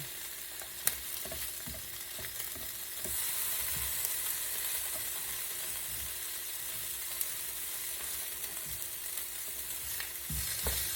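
Food fries in a non-stick pan with no oil, giving a steady close crackling sizzle with faint stirring scrapes and occasional small pops throughout, and no talk.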